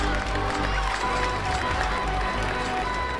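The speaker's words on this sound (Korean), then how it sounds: "얘네 박수 쳐주는 거 뭔가 감동인데?" Crowd of park guests clapping in the video game RollerCoaster Tycoon, Forest Frontiers scenario; steady, dense synthetic applause fills the whole stretch at even loudness, with no voices.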